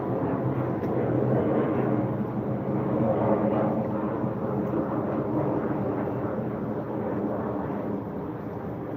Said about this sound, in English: The planes are still fucking launching, so they're gonna be nice and loud.